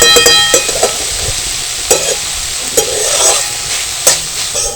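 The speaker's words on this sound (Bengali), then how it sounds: "সমস্ত সবজিগুলো একটু নাড়াচাড়া করে ভেজে নেবো" Vegetables with green chili and grated ginger stir-frying in a pan, a steady sizzle broken by sharp spatula scrapes and knocks roughly every second.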